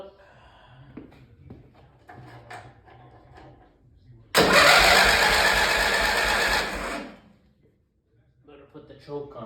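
A Craftsman lawn tractor with a Briggs & Stratton I/C Gold 12.5 engine cranks and catches, running loud and close for about three seconds before cutting off. Quiet talk comes before it and again after it.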